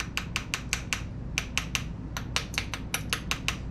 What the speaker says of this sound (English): Not sure where to tap, but I'm just gonna tap around.